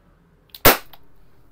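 One loud, snappy report from a Wingun CO2 pistol, preceded by a small click, rings out at close range and fades with a short tail.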